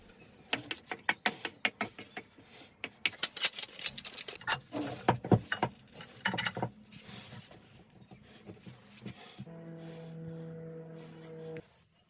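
Clamps being ratcheted and tightened around glued iroko wood in a workshop, giving bursts of close clicking and clacking, some rapid and some spaced out, ending in a steadier mechanical whir.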